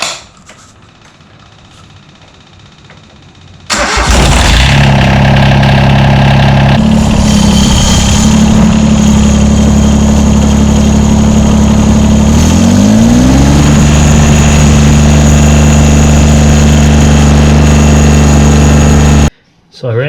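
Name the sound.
John Deere 332 tractor engine started and idling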